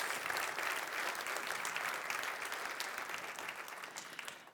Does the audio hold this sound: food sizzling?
no